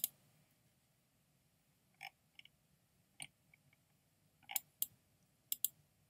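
Computer mouse clicks while choosing a Google background: sparse, faint, sharp clicks, some single and some in quick pairs, spread over several quiet seconds with no talking.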